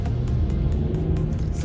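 A Mercedes-Benz S-Class with 600 Nm of torque accelerating, a smooth close engine hum that rises and holds strong through a short, steady pull.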